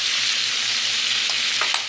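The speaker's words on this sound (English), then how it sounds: "right now I have it frying on medium heat and a little bit of canola oil" Boneless, skinless chicken thighs fry in a little canola oil over medium heat, giving a steady, close, even sizzle with faint crackles and a few small pops near the end, no voices.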